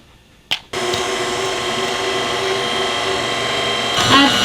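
An electric mixer churns ricotta muffin batter, a loud continuous mechanical whir that starts abruptly after a short knock and runs steadily, with a faint voice near the end.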